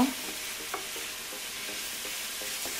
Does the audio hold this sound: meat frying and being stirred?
yes